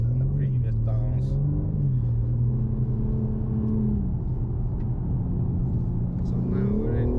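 BMW M4 G82 accelerating through the gears from inside the cabin, engine note climbing and dropping at a shift, a steady loud drone as someone talks throughout.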